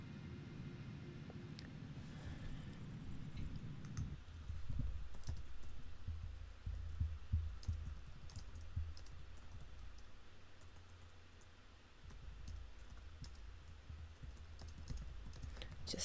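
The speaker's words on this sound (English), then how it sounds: "Just typing a good night to Dwarf there" Clicky keystrokes on a computer keyboard tap out a short chat message during a World of Tanks Blitz match, quick irregular presses over steady game ambience and a low rumble.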